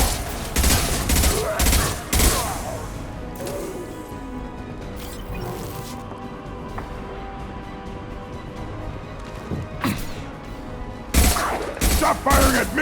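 Rapid bursts of gunfire ring out in the Mass Effect 2 game, with dense volleys at the start and end and sparser shots and echoing impacts in between, loud and close, with a few shouted voices mixed in.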